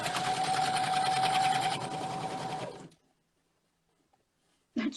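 A sewing machine stitches a face mask made from cosplay supplies, a fast, close mechanical whirring run that stops abruptly after about three seconds, leaving near silence before a brief thump.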